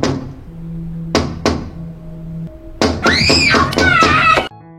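Knocking on an apartment window at night: two sharp raps stand out over a steady low hum, then a burst of loud, high screaming follows.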